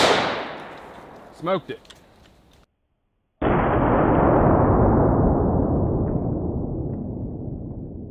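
Two loud gunshots fired at a sledgehammer ring out close by, the first followed by a short spoken remark, then a second blast after a brief silence, its roar decaying slowly over several seconds.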